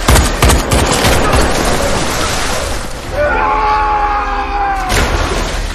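Gunfire in a scene from the James Bond film No Time To Die, a loud, dense barrage of shots over a rumbling score, giving way to a sustained droning tone with no clear talk.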